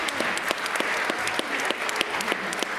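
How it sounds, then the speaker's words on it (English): A church congregation applauds at a baptism to welcome a child, a steady wash of many hands clapping at moderate volume, heard from within the room for a few seconds. "So why don't we give a round of applause to welcome Archie."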